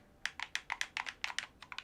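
A gamepad controller used for playing Dark Souls 2 gives a quick run of about a dozen crisp plastic button clicks in an irregular rhythm, close and fairly quiet.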